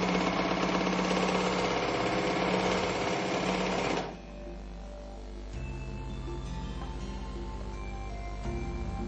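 A Merrylock MK-3000CL overlock machine stitches a rolled hem at full speed, producing a loud, steady mechanical whir. Partway through, the sound shifts to a lower, softer running hum that continues evenly to the end, with no voices.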